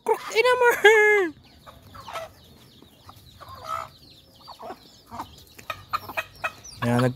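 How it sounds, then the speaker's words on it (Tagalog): Chickens cluck and squawk close by, with one loud drawn-out call at the start, followed by scattered clucks and rustling in a quiet yard in Cabagan. "Pakain natin sa mga gansa at mga manok."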